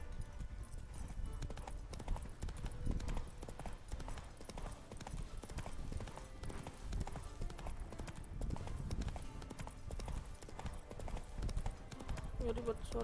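Hooves of a horse clip-clop steadily at a walking-to-trotting pace in The Witcher 3: Wild Hunt Next Gen, close and continuous over game music and ambience, with a voice speaking at points.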